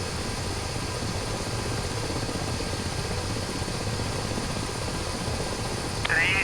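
Helicopter in flight during a video game convoy escort mission, a steady rotor and engine drone holding throughout, with a brief brighter burst near the end.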